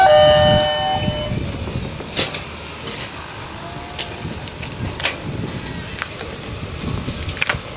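A train runs along track two through Plered railway station in the Bandung area, a steady rumbling roll of wagons with sharp squeal-like bursts, and a brief high horn near the start, loud and close with no talk.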